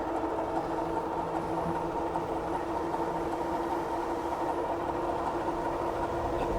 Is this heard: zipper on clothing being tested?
no